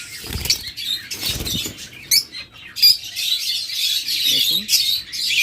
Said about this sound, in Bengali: একদম বিগ সাইজের পাখি